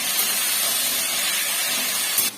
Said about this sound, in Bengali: এবার এগুলোকে নেড়ে নেবো।